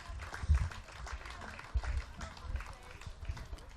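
A crowd at a cricket ground, where a T20 semi-final is being played, claps steadily in scattered bursts after a wicket falls, with a voice talking over the applause.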